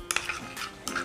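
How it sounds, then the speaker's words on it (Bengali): Curry with yogurt stirred in a pan, heard as a few quick metallic scrapes and taps of a spoon against the cookware, close and fairly quiet, with no talking. "আমি নাড়াই"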